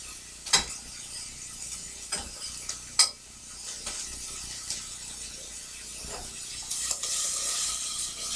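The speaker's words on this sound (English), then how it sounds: "If you have enough butter in there, you can just shake it like that" Garlic sizzling in butter in a pan for stuffing, with a steady soft hiss broken by several sharp clanks and scrapes as the pan is shaken, close by and with no talk.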